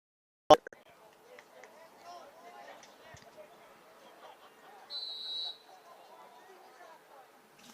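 At a high school boys lacrosse game, a referee blows one sustained whistle blast lasting about half a second, heard over crowd chatter and field noise after an earlier sharp knock.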